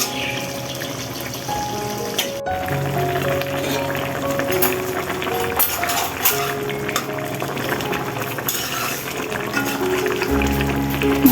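Spices and vegetables, including pointed gourd, sauté in a pan in a home kitchen, giving a steady close sizzle and bubbling with faint stirring scrapes throughout.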